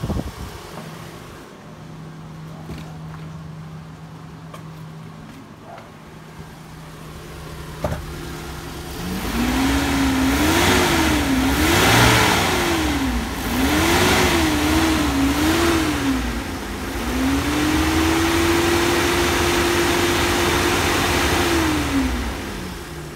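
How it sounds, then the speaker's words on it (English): A 2007 Ford Econovan engine idles, then is revved several times in rising and falling bursts before holding a steady higher rev, loud and close with no talk. "Give it a couple of revs for you."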